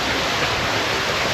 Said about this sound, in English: Here you got a little waterfall.